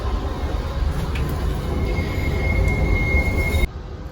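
Loud, rumbling rail noise inside a regional tram in Germany fills the space with a steady low roar and a thin high squeal from the wheels, cutting off abruptly at the end.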